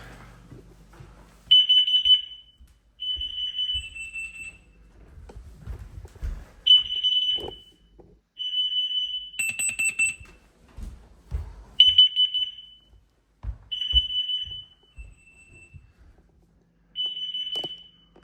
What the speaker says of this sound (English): Upstairs smoke and CO detector triggered alarm.